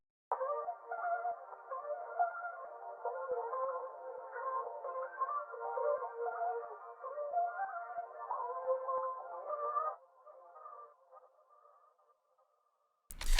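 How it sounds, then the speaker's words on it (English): A 90s-style late-night R&B beat sample runs through a quarter-note delay, a muffled mid-range loop with echoing repeats that trail off into a fading tail before a sudden loud burst at the very end. "I'm going to set my delay to a quarter note,"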